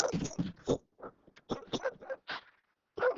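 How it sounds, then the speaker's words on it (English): Several short, sharp dog barks and yips in quick bursts, moderately close, with brief pauses between them. "Sorry, my dog's barking."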